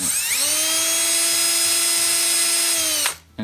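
A power drill whirs steadily at high speed, driving screws in reverse into a vintage model bus under restoration, then winds down and stops abruptly with a brief rattle.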